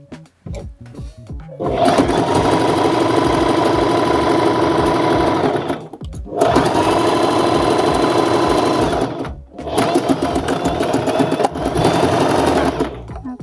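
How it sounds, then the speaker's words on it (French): A domestic sewing machine runs a zigzag stitch along fabric cut from a bedsheet, whirring steadily at close range in three long runs separated by brief pauses, with no talking. "pour pas que notre tissu s'effiloche, on va faire un point zigzag sur tout le long"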